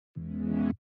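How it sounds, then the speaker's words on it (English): A single short burst of buzzy, detuned square-wave synth chords through a modulated low-pass filter, bright, sounding for about half a second before cutting off cleanly into silence. "I layered it with detuned square wave chords with a modulated low pass filter,"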